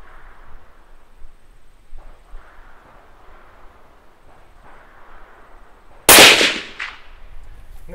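Sniper rifle fires a single sharp, loud shot outdoors during training, a sudden close crack with a short fading echo after several seconds of quiet wind and ambient noise.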